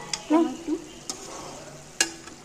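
Vegetables sizzling in a pan for Bengali cabbage curry, with a spatula stirring and clinking against the pan in a few short bursts over a soft frying hiss.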